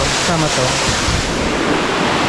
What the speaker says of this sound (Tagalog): Tapos meron siyang falls